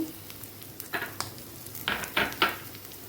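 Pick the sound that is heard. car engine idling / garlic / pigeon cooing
garlic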